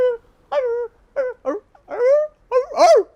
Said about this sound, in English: it's like a whimpering coming through